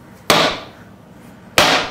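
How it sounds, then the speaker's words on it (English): A hammer strikes a rocket motor twice, each blow a loud, sharp crack with a ringing decay, spaced about a second apart and with no talking. "Hammer time."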